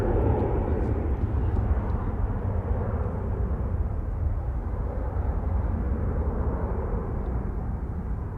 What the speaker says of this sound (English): Qatari A350 is taxiing out.